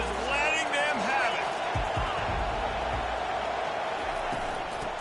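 A stadium crowd at a college football game roars steadily and loudly throughout, with a commentator talking over the dense, continuous noise.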